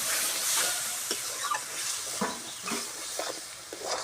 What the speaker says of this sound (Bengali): জল দিয়ে আমার মশলাটাকে কষবো।